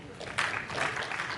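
Conference audience at CADE Panamá 2017 applauds as a panel on barriers, education and human resources is welcomed, a brief swell of clapping that rises quickly and holds.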